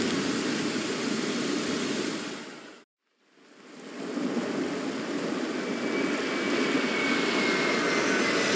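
Airplane engine roar in the video game Bright Memory Infinite, a loud broadband jet rush that cuts out abruptly for a moment near the middle, then swells back and holds steady to the end.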